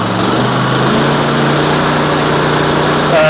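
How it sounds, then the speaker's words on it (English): The engine of a DiamaPro ROG-60 grinder runs loud and steady, close by, with a continuous droning roar and a slight rise in pitch near the end as it is throttled up. "throttle it up just to make sure you can go through the rev range"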